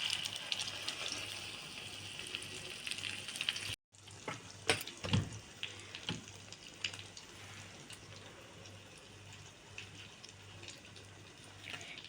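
Fish bread pakora coated in crushed Kurkure crumbs frying in oil, giving a steady watery sizzle and crackle that runs throughout, with a brief cut near the start and a few louder bubbling bursts shortly after.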